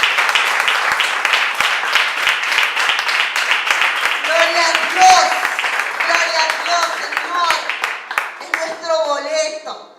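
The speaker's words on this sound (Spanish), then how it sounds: "Denle un fuerte aplauso." A church congregation claps loudly and steadily during a Spanish-language Easter sermon, the applause continuing under a preacher's raised voice and occasional cheers.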